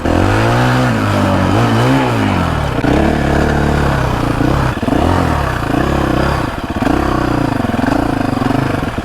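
A four-stroke motorcycle climbs a steep hill near old mines, its engine loud and close. Its pitch rises and falls through repeated revs and gear changes with some mechanical clatter, and no one speaks.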